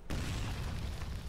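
A deep, booming burst erupts suddenly and rumbles on as a dense, continuous roar of blasts, loud and close, with no voices, in the video game Gears of War.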